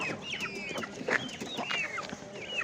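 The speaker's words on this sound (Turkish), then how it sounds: "burada köy horozları var değil mi" Village roosters and hens at an outdoor chicken market in Gördes, with scattered clucks and short crowing calls close by over a busy crowd murmur.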